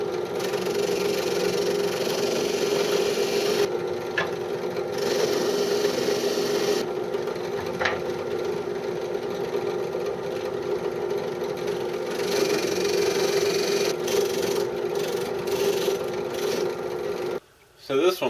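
Sanding drum from a 26-piece kit spinning on a rotary tool and sanding a recessed area of wood, a steady high whine with rasping friction throughout, briefly cutting out near the end.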